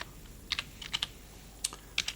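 Quick bursts of keystrokes on a computer keyboard as a domain name is entered, light clicks in short irregular clusters separated by pauses, close and clear in a quiet room.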